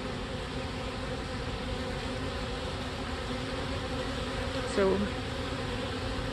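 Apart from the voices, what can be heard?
honey bee swarm buzzing while building comb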